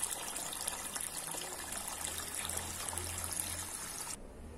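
Water pours into a homemade orchid fountain basin, covering a small pump: a steady, close splashing gush with a faint low hum underneath that runs for about four seconds and then stops.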